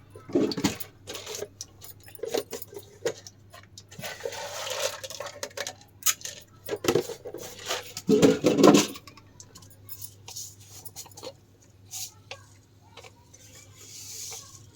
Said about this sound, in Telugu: శనగపప్పు అయితే వేసేసేయాలి ఈ విధంగా